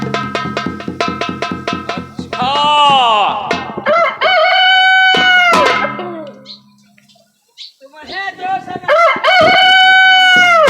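A performer in a Ramlila stage play of Sita's swayamvar imitates a rooster with his voice. Rapid clucking pulses lead into loud, drawn-out crows that repeat, broken by a brief quiet gap before more close, forceful crowing.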